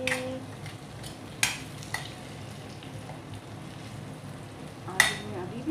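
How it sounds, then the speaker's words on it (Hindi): Pointed gourd and potato curry stirred in a pan, with soft scraping and sizzling over steady low cooking noise and a few sharp utensil clinks against the pan. "देखिए फ्रेंड्स, हमारी सब्जी, हम इसे हिला देंगे।"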